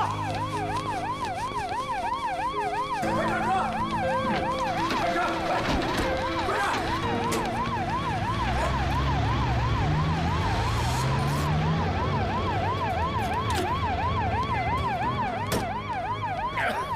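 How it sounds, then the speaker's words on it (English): A fake police car siren from a wuxia fantasy movie wails in a fast, repeating two-tone warble, loud and continuous, over rumbling vehicle and scene noise. "Does my fake police car work?"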